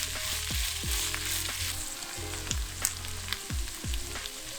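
Red sauce for pambazos cooks in a pan with a steady, close sizzle and frying crackle, while low repeated swooping tones sound underneath.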